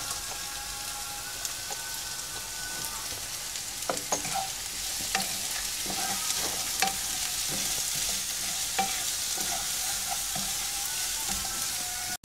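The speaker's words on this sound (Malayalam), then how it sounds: "വെളുത്തുള്ളി, ഇഞ്ചിയും പച്ചമുളകും അരിഞ്ഞു വെച്ചതും കൂടെ നമുക്ക് ഇതിലേക്ക് ഇട്ട് കൊടുത്ത് മൂപ്പിക്കാം" Chopped garlic, ginger and green chillies frying with onions in a pan for green tomato thoran, a continuous bright crackling sizzle with occasional scrapes and pops from stirring throughout.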